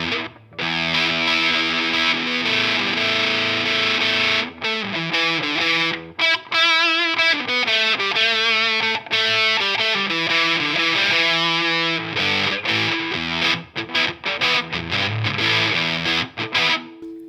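Electric guitar through a Russian Big Muff fuzz pedal powered at 9 volts, thick saturated distorted chords and riffs playing continuously and loud, with brief gaps between phrases and no talking.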